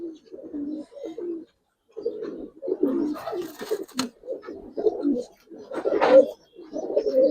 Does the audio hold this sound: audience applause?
no